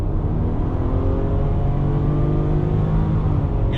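A 2020 Nissan Pathfinder Rock Creek Edition accelerates in rush hour traffic, its engine note rising smoothly in a loud, steady interior drone with no talk.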